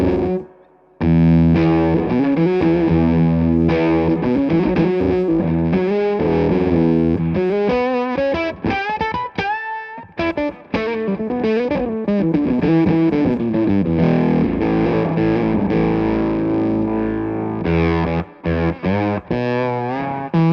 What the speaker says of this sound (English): is a Tronics Octa Hive, which is currently my favorite Octavian pedal